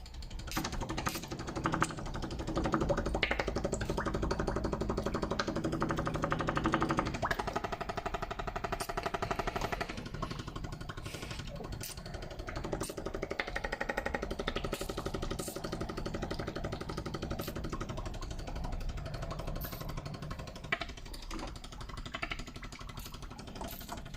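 A 3-port boost control solenoid valve driven by an Emerald K6 ECU, set to 10% to the top of the valve and 90% to exhaust, buzzes in a rapid, steady mechanical chatter, loud and close throughout.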